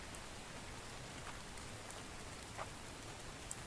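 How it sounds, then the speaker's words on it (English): Steady rain falls in a survival video game, a dense continuous hiss with a few faint drip-like ticks, close and even throughout. "Trying to beat the rain here."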